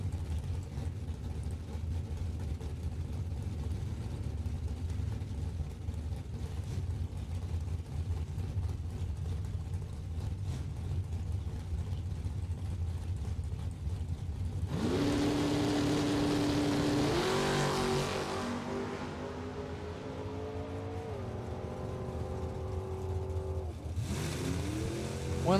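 Drag racing cars, including a Camaro, at Kil-Kare Dragway: a distant engine rumble with track ambience, then a loud, rising high-revving engine roar as a car launches and pulls away, fading, and another rev near the end.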